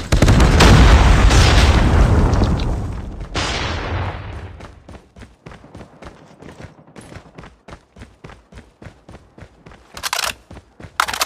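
A predator missile explosion in Call of Duty Mobile: a loud booming blast rumbling for several seconds, then rapid bursts of gunfire and pops.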